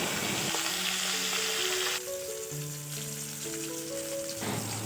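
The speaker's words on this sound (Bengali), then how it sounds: "তেল কিন্তু গরম হয়ে গেছে, এবার মাছগুলো এক একে ভেজে নেব" Small pond-caught puti and mourala fish fry in hot oil in a kadai, a steady, close sizzle and spatter that runs unbroken beneath background music.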